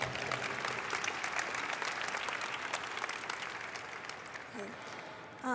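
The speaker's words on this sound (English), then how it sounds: "Can we give them one more round of applause," Audience at a closing ceremony claps in dense, sustained applause, with a voice starting to speak near the end as the clapping continues.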